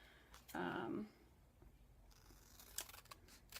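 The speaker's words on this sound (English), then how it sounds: "you don't have to cut exactly on those lines" Scissors snip through a chalk stencil in one brief crisp cut, followed by faint rustling and small handling clicks at low level.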